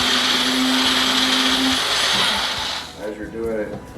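Blender grinding fish flakes into powdered fry food. A loud, high whir runs steadily for almost three seconds, then cuts off. A voice follows.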